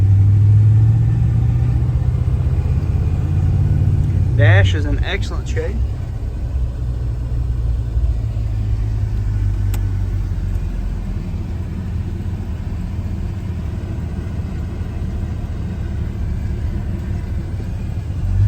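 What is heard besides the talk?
1984 Chevrolet C10 truck engine during test drive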